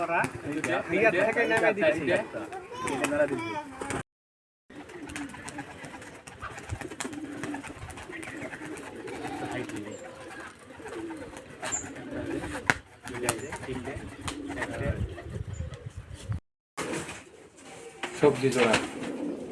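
A pair of Rajshahi giribaz pigeons coo in low, rolling phrases, with some wing flutter, close by while someone talks over them almost throughout, broken by a couple of brief silent gaps.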